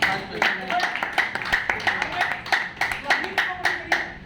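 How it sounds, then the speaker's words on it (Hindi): Clapping breaks out at an agents' meeting, a brisk run of sharp, close handclaps in an uneven rhythm that carries on throughout, with voices talking over part of it. "मैडम के लिए और उनके लिए, दोनों के लिए तालियां।"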